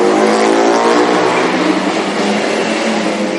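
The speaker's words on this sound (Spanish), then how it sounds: "Seguramente la moto más ruidosa de todo Japón." An extremely loud motorcycle roars past close by on a street in a small Japanese city, a harsh, dense engine blare that holds at full volume for a few seconds.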